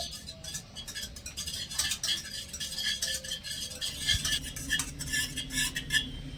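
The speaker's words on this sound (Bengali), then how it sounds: "তো এখানে নেড়ে ছেড়ে আমি পুরো এক মিনিটের মতন একটু রান্না করে নিয়েছি" Milk thickened with cornflour is stirred in a pan on the stove for a sweet dish, with a steady scraping and clinking of a spoon against the pan, close and continuous, and no talking.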